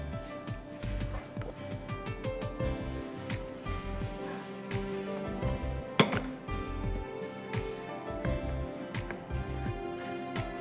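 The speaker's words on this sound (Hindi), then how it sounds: "इसको ज़रा मैं चूल्हे से हटा के जल्दी से मिक्स कर लूँ" Butter and brown sugar are stirred together quickly in a pan just taken off the stove, giving repeated scraping and clinking of a spoon against metal at close range, steady for the whole stretch.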